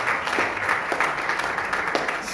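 Steady applause from an audience, a dense wash of many hands clapping at an even level throughout.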